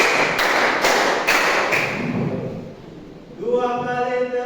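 Rhythmic hand clapping during a classroom rhythm exercise, five sharp claps in an even sequence close by, followed by a spoken voice.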